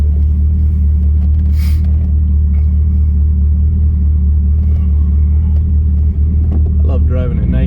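Car cruising at night with a loud, steady low engine and road rumble from inside the cabin, a faint clatter briefly rising near the end.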